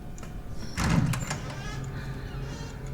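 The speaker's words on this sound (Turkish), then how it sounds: "Ya kapıyı açtık işte." A door in the survival horror game Resident Evil 7 opens with a heavy mechanical scrape and thud, while a voice talks over it.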